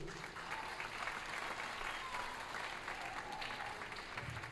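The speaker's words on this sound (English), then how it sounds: "So go ahead and applause for each one as I call them up" Audience applause at a 7th and 8th grade school band concert, steady dense clapping from a crowd filling the hall throughout without a break.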